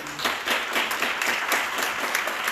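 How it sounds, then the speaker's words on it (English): Audience at an awards ceremony gives a round of applause, a full, even burst of clapping from a crowd heard on its own. "would you give these folks a round of applause?"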